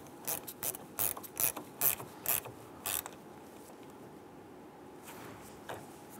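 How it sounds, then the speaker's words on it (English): Ratchet tightening the battery terminal bolt on a 2002-2008 Dodge Ram 1500, heard as about eight quick, close, crisp clicks in an uneven rhythm, followed by a few softer scraping touches over a low background hum. "Tighten down our bolt here."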